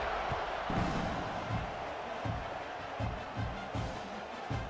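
Broad, steady stadium crowd roar in College Football 26 before a kickoff, loud and continuous across the clip, with repeated low thumping beats pulsing underneath like a drum or rhythmic stomping.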